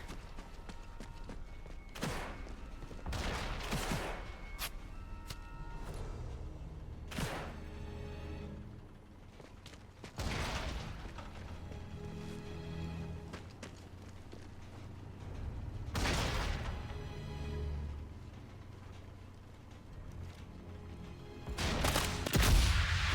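Rifle fire in the video game Sniper Elite: Resistance, with several loud sharp gunshots spaced irregularly across the clip over a steady game background rumble.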